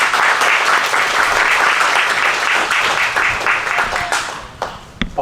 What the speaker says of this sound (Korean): 그럼 경례 박수